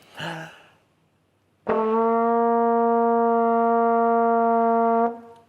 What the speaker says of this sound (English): I'm going to take this trombone here, and I've just got to blow in the end here